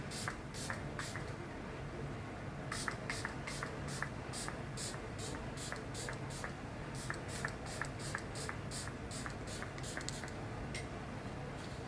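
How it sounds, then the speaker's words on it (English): A series of short, crisp bursts of makeup setting spray from a pump nozzle, coming in quick clusters with brief pauses, close by and fairly quiet. "Setting spray. Ready, set, seal."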